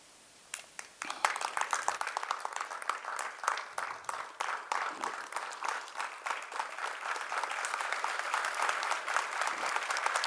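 An audience at a youth entrepreneurship meeting in Thane breaks into applause, a dense patter of many hands clapping that starts after a brief pause and builds to a steady, moderately distant roar lasting ten seconds, with no talk over it.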